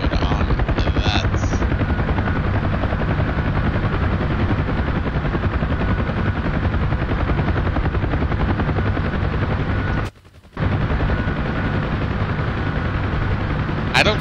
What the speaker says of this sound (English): landing in the helicopter is not going to sound very well